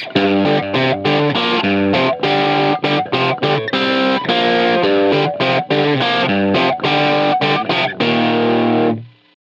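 Heavily distorted electric guitar through a Line 6 Helix amp modeler with heavy power-amp sag, playing chunky, rhythmic chords with a compressed, saturated amp tone, loud and close, ending with a final sustained chord that cuts off.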